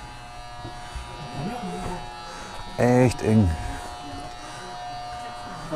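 A steady electric ventilation fan buzz hums inside the cramped radio room of the submarine USS Growler, with a person speaking briefly over it.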